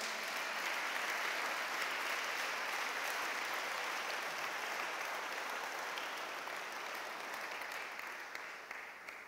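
Loud, sustained applause from a large crowd at a Spanish-language church service, dense and steady throughout before thinning slightly toward the end.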